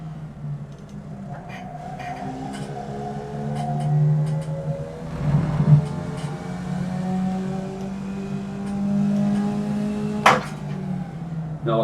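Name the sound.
Formula Vee race car engine revving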